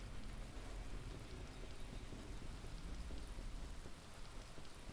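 Steady rain in the Dead Island video game, a constant dense hiss of falling water with a low rumble beneath, unbroken and even throughout.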